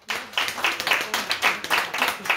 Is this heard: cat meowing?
no